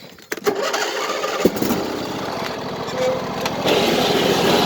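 A Craftsman lawn mower engine is pulled and catches after a few sputters, then settles into a loud, close, rapid idle that runs steadily, with a voice briefly present near the start.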